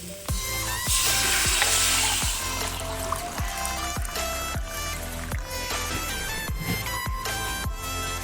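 Water poured into a hot pan of sautéed potatoes and greens sets off a loud hissing sizzle in the first couple of seconds, then settles into steady frying crackle with occasional utensil clinks.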